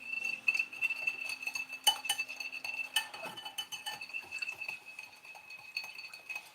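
A utensil stirring sugar sauce for General Tso's chicken in a bowl, with steady light clinks and scrapes against the dish, close and fairly quiet, with no talking.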